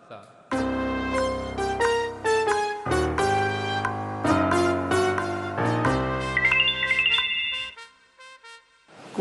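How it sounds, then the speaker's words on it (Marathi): Melodic mobile phone ringtone playing a bright tune of rapid notes, loud and close, running for several seconds before cutting off. "फोन उचल."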